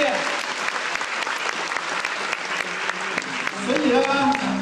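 Audience applause at a diamond business presentation in Taipei, honouring emerald and diamond presidents, a sustained round of many hands clapping with a speaker's voice over it.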